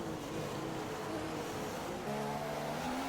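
A McLaren Honda race car in a racing video game holds a loud, continuous engine drone that rises in pitch near the end as it accelerates.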